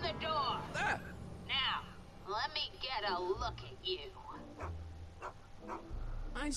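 Einstein, Doc's dog in the Back to the Future Telltale video game, gives short yips and whimpery barks between lines of character dialogue.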